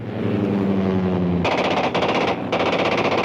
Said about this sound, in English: Get out of the range of that machine gun!